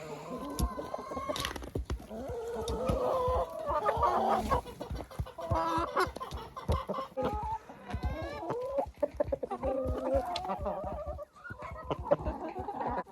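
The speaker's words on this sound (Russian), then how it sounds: "Мои куры кушают хлеб с плесенью." Backyard farm chickens pecking at and eating moldy bread, with frequent clucks and soft calls close by, busy and continuous, plus scattered pecking clicks.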